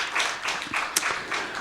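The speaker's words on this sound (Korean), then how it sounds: "우리 하나님께 영광의 박수를 크게 돌립니다." A church congregation applauds during a Sunday morning service, a steady patter of many hands clapping at moderate volume from a slight distance, with a few sharper individual claps standing out.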